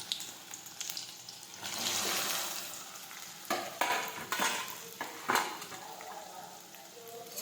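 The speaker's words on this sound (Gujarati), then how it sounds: "સમારેલો ભીંડો નાખી દઈશું." Chopped okra fries in hot oil with mustard seeds and cumin, a soft crackling sizzle broken by several scraping spoon stirs and light clinks, fairly quiet and close.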